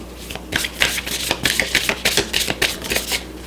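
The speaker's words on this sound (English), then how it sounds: "I will shuffle the Moonology card and just pull one." Cards being shuffled close up, a rapid series of crisp riffling flutters and soft slaps in uneven bursts, with no talking.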